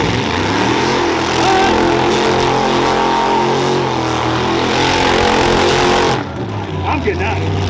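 A car engine roars and revs hard through a burnout at the Hoonigan burnyard at Fuel Fest, loud and sustained over crowd cheering and shouting, then cutting off abruptly near the end, leaving quieter background noise.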